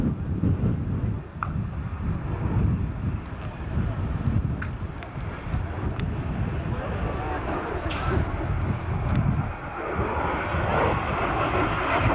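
A military jet with two Larzac engines flying at the 1999 Koksijde airshow, a broad roaring engine rumble with wind noise heard at a distance, steady throughout, under a commentator's talk.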